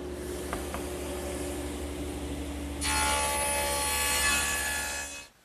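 A table saw fitted with a dado blade cuts a rabbet in wood for a bathroom cupboard. The motor hums steadily, then the blade bites in with a loud, close, rasping cut for about two and a half seconds before stopping abruptly.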